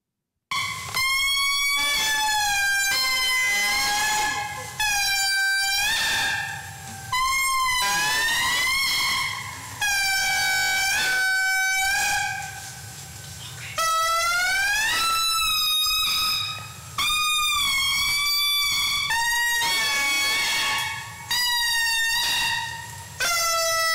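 Indri lemur calling to its group in a forest, with loud, eerie wailing cries that rise and fall in long, repeated phrases separated by brief gaps, sustained and close throughout.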